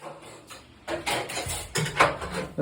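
Someone at a sink scrubs dishes, with repeated clinks and clatters of pots and utensils, close and fairly loud, irregular in rhythm.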